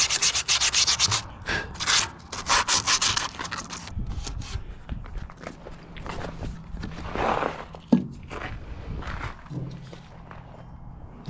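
Cloth rubbing and scrubbing over the casing of a 3500-watt Chinese-made portable generator, close rhythmic strokes in bursts, with occasional knocks and a faint hum underneath.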